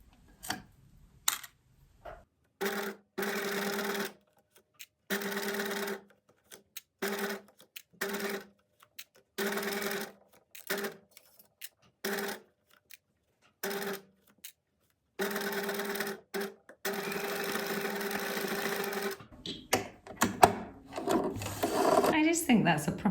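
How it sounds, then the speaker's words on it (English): A sewing machine running a straight stitch over pinned fabric flower appliques: short, close bursts of even mechanical whirring separated by pauses, with a voice talking over the later part. "I'm just going to sew with straight stitch, and I'm going to pull the pins out as I go along."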